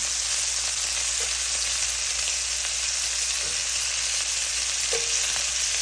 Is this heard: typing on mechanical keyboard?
no